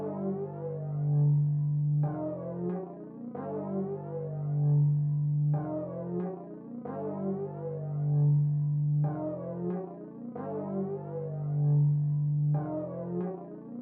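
Purity's Airplaneser bass synth plays a looping bass line for root notes, with a cool warping character; rich, buzzing sustained notes repeat in a steady phrase roughly every two seconds, loud and alone.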